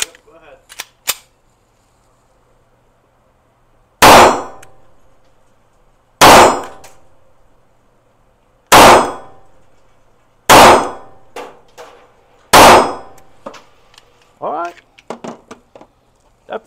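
An SCCY DVG1 pistol fires MagTech 115-grain boxed ammunition: five sharp, loud shots spaced about two seconds apart, each with a short ringing decay, followed by lighter clanks and brief voices near the end.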